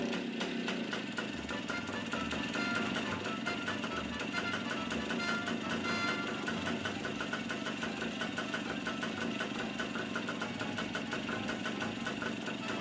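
A Mobylette D55 vintage moped engine that idles fine but bogs down under acceleration, running steadily at idle with a fast, buzzy, even rattle throughout and no voices.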